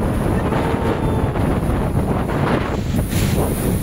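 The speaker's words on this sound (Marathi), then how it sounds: "तर हे आहे रॉक गार्डन आणि इथं जबरदस्त अशा लाटा येतात." Strong sea waves and wind at the rock garden in Malvan on the coast make a steady, loud, unbroken roar, with heavy wind buffeting the microphone throughout.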